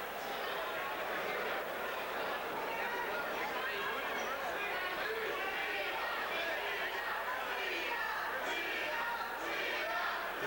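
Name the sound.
boxing crowd chanting Leon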